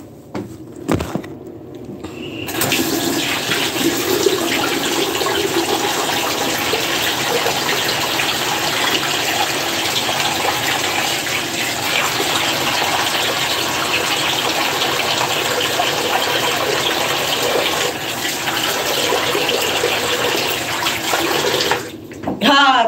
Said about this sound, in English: I'm just gonna rinse my hands a bit.